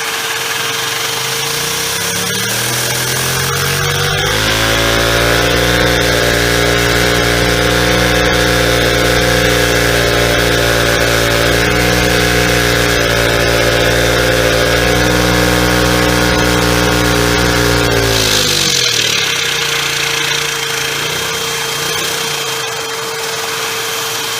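A small engine lubricated with WD-40 during a speed test runs at high speed, a loud steady whine that ramps up, holds near full throttle for about fifteen seconds, then winds back down.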